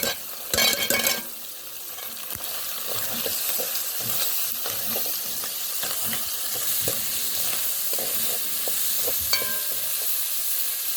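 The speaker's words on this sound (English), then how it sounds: "we're going to allow this to fry up. So we're going to add some onion." Onion fries and gets stirred in a pot for Jamaican seafood stewed peas, a steady close sizzle with a loud metallic scrape at the start and repeated spoon knocks and scrapes throughout, no voices.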